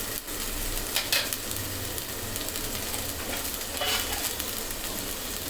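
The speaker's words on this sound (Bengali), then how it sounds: "মশলাটার সাথে টমেটোটা আরও তিন চার মিনিটের মতন ভালো মতন ভুনে নিব যাতে টমেটোটা গলে যায়" Tomato and spices frying and being stirred in a pan, with a steady close sizzle and occasional scraping; nobody speaks.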